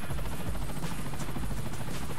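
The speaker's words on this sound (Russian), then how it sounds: "Ну хорошо, давайте сядем в вертолет." A helicopter takes off in a Hello Kitty video game, its rotor chopping in a dense, steady rhythmic thrum that stays loud and close throughout.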